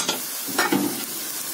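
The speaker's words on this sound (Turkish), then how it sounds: "Şimdi karıştırıp tenceremin kapağını kapatacağım." A spoon stirs lamb kavurma in a pot over gentle heat, with a few soft scraping strokes close by over a continuous low sizzle.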